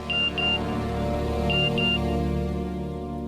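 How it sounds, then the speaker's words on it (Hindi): A phone message notification tone from a CID crime drama: two quick pairs of short high beeps, the second pair about a second and a half after the first, over a steady droning music bed. "मैसेज है"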